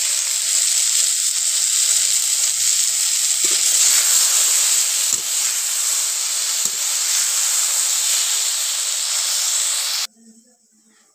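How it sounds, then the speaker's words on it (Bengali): Cut potatoes and eggplant fry in hot oil with a loud, steady hiss and sizzle, then cut off abruptly into near silence. "এবার কেটে রাখা আলু আর বেগুনগুলো ভালো করে ভেজে নেব আর সেদ্ধ করে নেব।"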